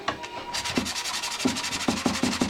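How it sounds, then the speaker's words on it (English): Hand sanding over a cyanoacrylate (super glue) repair on a motorcycle fairing: steady abrasive rubbing strokes, close and fairly loud, in a repeating back-and-forth rhythm with no voices. "you can immediately go into this with sanding"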